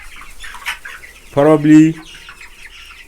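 Chickens raised in a batch of about a hundred cluck, one bird calling loudly and briefly for about half a second in the middle, with faint talk and farm background noise around it.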